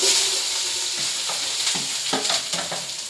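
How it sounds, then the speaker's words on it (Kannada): Chopped onions and green chillies fry in a pan with a loud, continuous sizzle, broken by several scraping stirs of a spatula, close up and with no voices. "ಇದನ್ನೆಲ್ಲ ಚೆನ್ನಾಗಿ ಫ್ರೈ ಮಾಡ್ಕೋಬೇಕು ನೆಕ್ಸ್ಟ್ ಹಚ್ಚಿಟ್ಟಿರುವಂಥ ಈರುಳ್ಳಿ ಮೆಣಸಿನ್ಕಾಯಿ ಹಾಕೋಬೇಕು"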